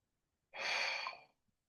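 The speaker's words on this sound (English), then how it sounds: "just take a deep breath" A single deep breath drawn in during a mindfulness practice, a soft breathy inhale lasting under a second in otherwise quiet surroundings.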